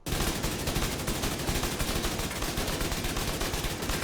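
Sustained automatic fire from an AK rifle in The Division 2, a loud continuous stream of evenly spaced rapid shots without pause.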